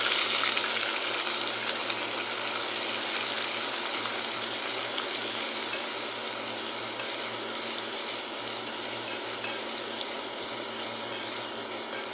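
Ginger and garlic fry in a hot pan, giving a steady, loud, close sizzle that runs throughout with no talking.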